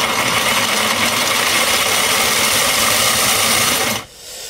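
A 3D printed planetary gearbox spinning at speed, a loud continuous mechanical whir and grinding rattle that holds steady, then drops off abruptly near the end.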